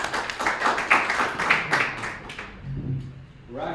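Scattered clapping from a small audience welcoming two guests at an evening talk, brisk and uneven for about two seconds, then dying away as a voice starts speaking.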